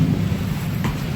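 Steady rain falling on a field, a dense low rumbling wash of drops that holds evenly throughout, fairly close and with no voices.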